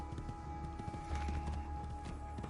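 Horse hooves clip-clopping in the Assassin's Creed II video game, a quick steady rhythm of hoofbeats at close range over ambient game sound, with no talking.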